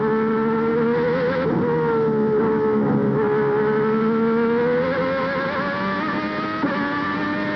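A 1990 Formula 1 car engine screams at Hockenheim, its high, steady tone wavering slightly as the throttle is held balanced, loud and continuous with no voices over it.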